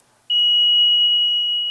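A homemade home security system's alarm, triggered in sleep mode by a simulated door opening, emits a single loud, continuous high-pitched electronic tone that starts abruptly and holds steadily to the end.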